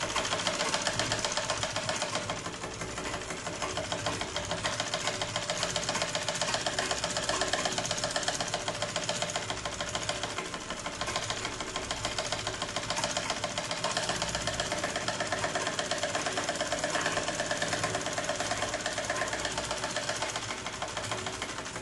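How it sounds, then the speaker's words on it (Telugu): A sewing machine stitches the folded hem of a blouse in a long, steady mechanical whir of rapid needle strokes, close and continuous, with brief slight changes in speed and no voices. "మడత పెట్టి ఒక స్టిచ్ ఇవ్వాలి."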